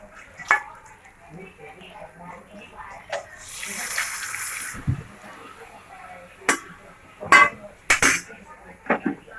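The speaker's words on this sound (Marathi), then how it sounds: "आता आपण पाणी टाकून घेऊया" Water pours briefly into a pan with a splashing rush, surrounded by sharp clanks of metal utensils and cookware.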